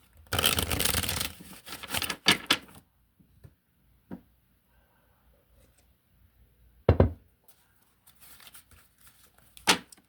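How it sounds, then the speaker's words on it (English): Tarot deck shuffled by hand, a long dense riffle of papery flicks and taps at the start, then a few separate soft card knocks and slaps scattered through a quiet stretch, close and alone without talk. "I want to shuffle again."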